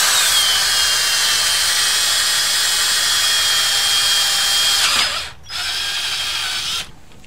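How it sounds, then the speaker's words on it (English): A power drill bores a hole in a small part clamped in a vise, a loud, steady high-pitched whine running continuously, then briefly dropping out and resuming before stopping near the end. "you should be drilling this hole"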